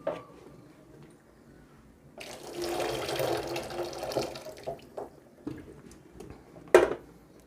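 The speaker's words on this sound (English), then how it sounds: "We are going to drain out that water." Boiled potato water poured from a pot into a kitchen sink, a steady rushing splash of moderate loudness lasting a few seconds, then a few softer drips and a brief clatter of the pot near the end.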